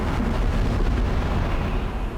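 A powerful TNT-like explosive blast produces a dense, sustained roaring rumble that stays loud and heavy from start to finish, with no separate sharp crack and no voices.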